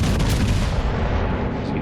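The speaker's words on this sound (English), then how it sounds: "Big torpedoes there from the Shimakaze" Heavy Shimakaze destroyer torpedoes slam into an enemy ship in World of Warships, a dense, loud, continuous rumble of booming explosions for about two seconds with no talking.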